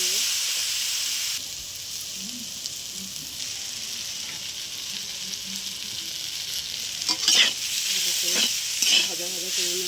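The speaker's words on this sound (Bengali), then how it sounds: "পটলগুলো দিয়ে দিচ্ছি, পটল আলু দিয়ে দিলাম, ভালো করে নেড়ে নেবো।" Pointed gourd and potato hit hot oil with nigella seeds in a pan and are stirred. The result is a loud, continuous close sizzle, with scraping stir bursts toward the end.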